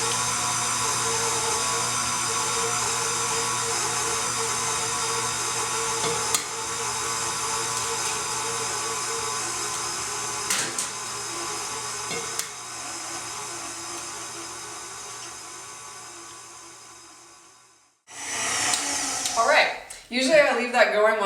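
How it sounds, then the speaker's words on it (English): An electric mixer beats eggs into chocolate cake batter, whirring steadily for about eighteen seconds before stopping. Brief clatter and a voice follow at the end. "So add the egg, and set up your mixer."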